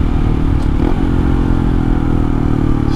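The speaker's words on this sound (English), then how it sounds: "It does sound a little bit quieter." Honda Trail 125 motorcycle fitted with a Yoshimura exhaust climbing uphill, its engine droning loud and steady with a rough, throaty tone and wind rumble throughout.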